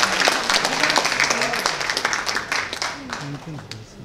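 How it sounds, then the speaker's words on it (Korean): An audience applauds at an award ceremony during a vision proclamation event. The clapping runs throughout, fairly loud, under a voice that talks over it. "여러분 큰 축하의 박수 보내주시기 바랍니다"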